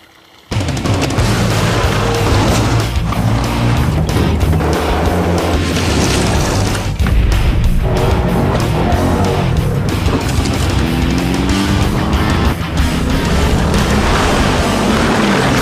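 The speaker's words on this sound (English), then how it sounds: "we put a Cummins diesel in this Jeep. We're gonna drive the whole thing across this pond." A Jeep fitted with a Cummins diesel engine driving across a pond. After a brief quiet start it becomes a loud, close roar of engine and churning water that lasts without a break.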